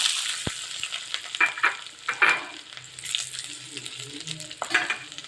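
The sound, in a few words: rice and garlic frying in hot coconut oil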